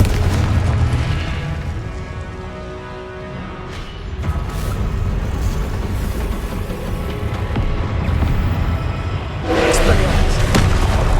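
Explosive spell blasts in the Hogwarts Legacy video game go off amid a combat soundscape, with heavy booms and thuds, a strong burst near the end, and a player talking throughout.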